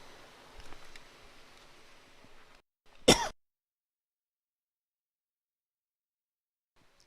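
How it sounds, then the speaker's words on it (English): A single sharp cough bursts out, loud and close, right after a stretch of low room noise and murmur, then gives way to near silence. "I had a coughing fit there."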